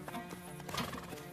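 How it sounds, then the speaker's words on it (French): Horses prepared for a ride in the animated cartoon Mouk give quick clip-clop hoofbeats and a whinny, faint and brief, set in a busy soundtrack. "C'est une journée idéale pour profiter d'une belle balade à cheval."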